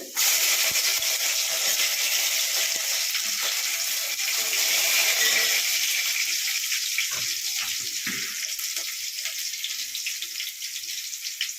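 Oil with fenugreek seeds and garlic sizzles in a pan on a stove while a Tamil fish curry is made, a steady bright hiss that stays loud, with small pops and a faint clatter near the end.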